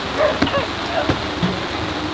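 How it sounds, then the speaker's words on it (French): Rain pattering steadily over the Le Mans circuit during the 2024 race weekend, a dense close hiss with scattered sharper drops and a few faint knocks throughout. "la pluie a eu le temps de s'inviter"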